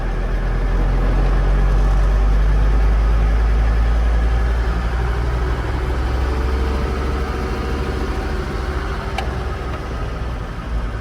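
A Mercedes W460 300GD with a manual transmission drives along, its engine a loud, steady low rumble that fills the whole stretch close by, with no voices over it.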